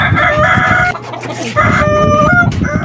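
A Kanawayon rooster crows loudly and close, one long harmonic crow broken by a brief pause before a second crow resumes, with clucking and farmyard noise underneath.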